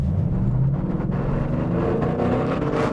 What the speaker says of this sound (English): the engine just wants you to rev it anyway